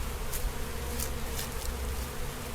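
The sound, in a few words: honey bees buzzing during a hive inspection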